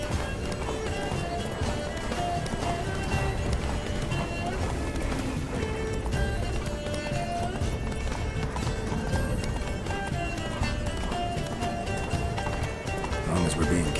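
Roach, a horse in the video game Witcher 3: Blood and Wine, gallops with steady, rapid hoofbeats that run unbroken throughout, mixed with dense game sound and voices.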